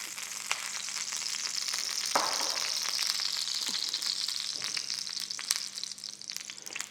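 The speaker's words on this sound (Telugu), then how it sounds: "ఇప్పుడు మనం తాలింపు వేసుకుందామండి రసానికి." Spice tempering for rasam: ground spice powder frying in a little hot oil, giving a continuous close hissing sizzle with faint crackles and a few soft clicks throughout, and no voices.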